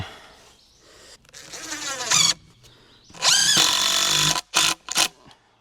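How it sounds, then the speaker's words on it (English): Power auger drilling into the ground during bridge building, heard nearby as loud whining engine bursts that rise in pitch, cut off and rev again in short spurts, with no talking. "Let's see what our auger would do for us."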